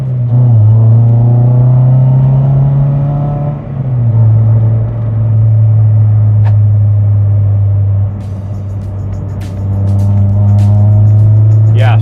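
A K24-swapped Honda CR-Z engine and exhaust droning loudly at steady cruise, its deep tone stepping down briefly around shift points before settling back, heard from inside with faint clicks near the end.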